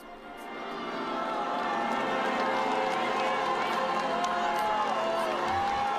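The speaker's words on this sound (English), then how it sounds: "Big crowd here turned up to greet Pope Francis" A big crowd gathered to greet Pope Francis, a broad continuous roar of cheering voices, fairly distant and steady throughout.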